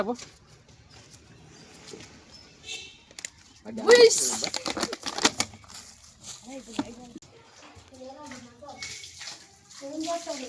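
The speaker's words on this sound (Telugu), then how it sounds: "నేనైతే నీళ్ళు దోరుతున్నా" Water is poured during a prank between friends, giving a splashing burst near the middle, with voices talking around it before and after.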